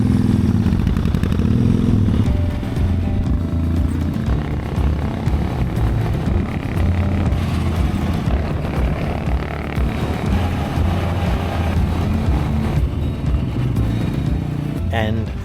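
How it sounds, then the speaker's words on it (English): A Suzuki motorcycle engine runs with a steady, loud low rumble throughout, out on a New Zealand valley and mountain road, with faint wind and clatter mixed in. "My bike is running and wait for the Suzuki Spitfire to start up"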